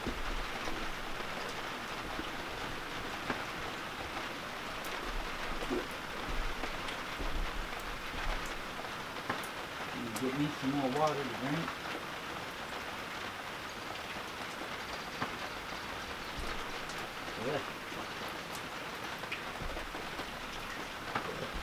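Steady rain patters continuously on a surface at moderate distance, with a faint voice speaking briefly partway through.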